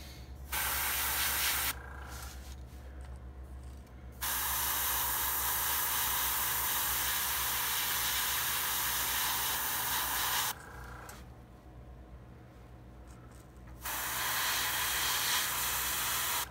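An airbrush sprays paint onto a 6.5 deep diver fishing lure, darkening the eye and nose tip, in long steady hissing bursts separated by short quiet gaps, close and fairly loud.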